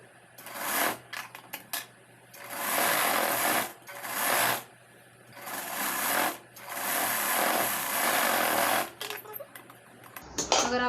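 A sewing machine stitches a designer blouse in repeated bursts of steady whirring separated by short pauses, loud and close, with a final clatter at the end.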